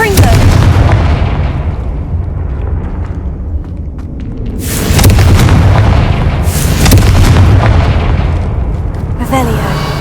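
A Confringo fire-blast spell goes off in the Hogwarts Legacy video game, with loud booming bursts landing over a dense, rumbling game soundscape.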